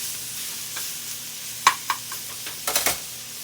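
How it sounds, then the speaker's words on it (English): Steady sizzling of cabbage frying in a pan, with a few light clinks and scrapes from stirring, close by and without talking. "So I'm frying my cabbage down."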